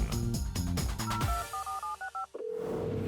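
Telephone keypad dialing tones in a cartoon, a quick run of short beeping tones followed by a steady single tone, clear and alone.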